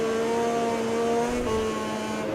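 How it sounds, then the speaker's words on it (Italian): Damaged motorcycle engine in the MotoGP 20 racing game during a rain race, a steady droning whine with sustained tonal hum and a slight pitch drop midway, continuous and fairly loud with no speech. "sento proprio la moto che è danneggiata"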